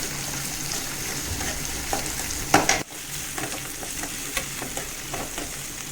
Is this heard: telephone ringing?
no